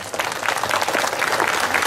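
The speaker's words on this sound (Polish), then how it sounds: "Jeszcze raz, wielkie brawa." An audience at a Beskid culture week folk event in Szczyrk claps in steady, dense applause, close and fairly loud throughout.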